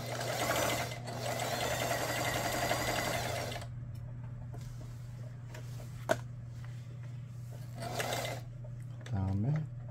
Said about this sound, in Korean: 전체적으로 조립을 하지 않은 상태의 오버럭 바느질이 되겠습니다